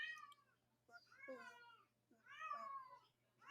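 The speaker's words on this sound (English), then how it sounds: "Sorry, my cat wants to play." A pet cat meows insistently several times in a row, wanting to play, with each cry rising and falling, heard close up over a faint steady hum in a quiet room.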